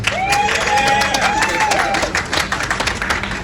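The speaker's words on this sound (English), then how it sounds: "Put those hands together." Wedding guests at a winter wedding at Vista Sky Lounge in Long Island City break into loud, sustained applause, with whoops and cheers rising over the dense clapping before it thins into scattered claps.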